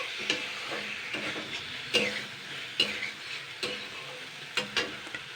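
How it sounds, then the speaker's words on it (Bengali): Boiled potatoes being stirred with Maggi masala in a pan, with a steady soft sizzle and irregular scrapes and knocks of the spoon against the metal every second or so. "এবার আমি এখানে এই ম্যাগি মশলাটা দিয়ে দিচ্ছি দিয়ে আমি জাস্ট দুই এক মিনিট নাড়াচাড়া করে নেব"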